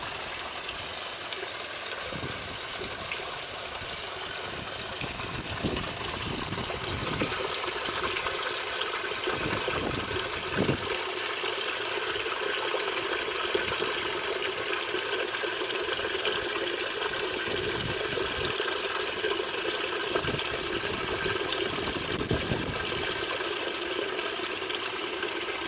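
Kenmore washing machine in a rinse cycle on a small water-level setting, water filling steadily with a continuous rushing hiss and intermittent low gurgles and sloshes, close and alone.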